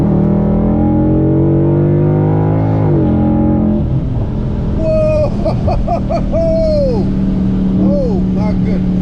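A supercharged Dodge Scat Pack with a 5.7 engine pulls hard, its loud engine note rising and then dropping away as people exclaim and talk over it inside the car.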